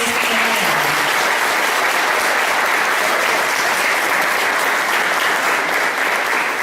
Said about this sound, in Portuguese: Eu gostaria de uma salva de palmas para todos eles que trabalharam.